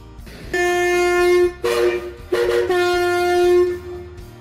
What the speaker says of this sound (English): Intercity, a type of train service that operates between cities or regions, primarily transporting passengers over long distances